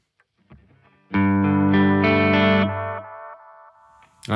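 A sustained electric guitar chord rings out through a Walrus Audio ARP-87 delay pedal in lo-fi mode, thick and slightly distorted, with a wavering, lo-fi echoing character that slowly decays.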